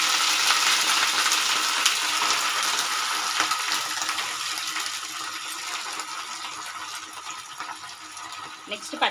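Gongura leaves and green chillies frying in oil make a steady bright sizzle that slowly fades, with faint stirring sounds.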